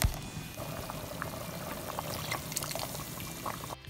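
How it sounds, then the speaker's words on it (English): Diluted ketchup and water poured from a dish into a pot of stewing Jamaican-style beef tongue, a soft continuous pouring and splashing that stays quiet and close, with no voices over it. "I just put some ketchup in a dish, added some water, stir it out, and then added the ketchup to my pot."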